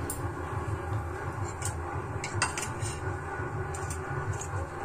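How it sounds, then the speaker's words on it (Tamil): Dry roasting of pepper, cumin, fenugreek and dried chillies in a pan, with repeated clinks and scrapes of a spatula on metal over a steady low hum, moderately loud and continuous. "வாணலியில் வந்து மிளகு, சீரகம், வெந்தயம் இதை வந்து நான் ட்ரை ரோஸ்ட் பண்ணிக்கிறேங்க."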